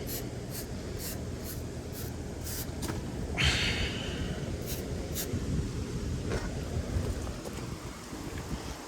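Wind blowing outdoors during a coil brush-off before rinsing an AC unit, a steady broadband rush with gusty swells, mixed with intermittent brushing and scraping ticks throughout.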